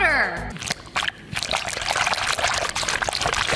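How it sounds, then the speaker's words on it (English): Water-filled tomatoes are squeezed by hand, giving wet squelching, trickling and splattering bursts up close, loud and crackly, following a brief musical tone at the start. "That's what some good moist tomatoes sound like."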